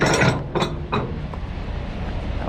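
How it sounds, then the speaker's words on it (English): Truck tarp fittings are tightened by hand outdoors, giving a few close metallic ratcheting clicks over a loud, steady wind-like rumble. "Just tightening these hand tight for now until I get these tops rolled out."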